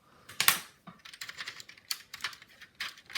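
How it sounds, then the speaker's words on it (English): A screwdriver prying keycaps off an old Compaq keyboard: sharp plastic clicks and snaps in an irregular series, close and fairly quiet. "just gonna use a screwdriver, pry these out."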